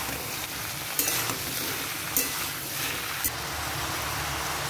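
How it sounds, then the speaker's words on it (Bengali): Pointed gourd, eggplant and ridge gourd sizzle in a pan as a spatula scrapes and stirs them in a few distinct strokes over a steady, close frying hiss, with no voices. "ভালো করে নেড়ে নেব।"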